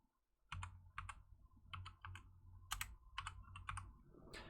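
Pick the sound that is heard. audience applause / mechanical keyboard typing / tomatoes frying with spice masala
mechanical keyboard typing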